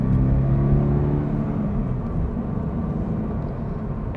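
A Toyota GR86 with a manual gearbox and naturally aspirated engine accelerates, its engine droning in a steady, close hum that eases slightly as it goes, with no one speaking.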